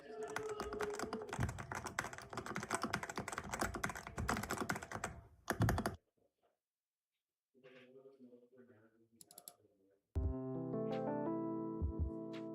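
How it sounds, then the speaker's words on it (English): Rapid typing on a modded cheap 60% mechanical keyboard, dense and continuous clacking for several seconds, then a pause, a few separate softer sounds, and a sustained tone at the end. "And after just a little bit of work, here's how it sounds."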